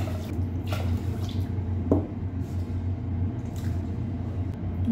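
Water runs and trickles into a cooking pot for rice, measured out by the glass, a close, steady pour with a few splashy drips over low background hum.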